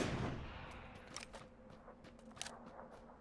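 Gunfire in PUBG, a burst of sharp shots trailing into scattered single cracks at moderate distance, crisp transients against a quiet background.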